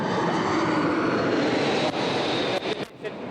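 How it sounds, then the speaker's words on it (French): An Airbus A300 airliner arriving at Orly airport, a loud, steady broadband engine roar held throughout, with a few brief dips and rustles near the end. "je crois que c'est un Airbus qui arrive là"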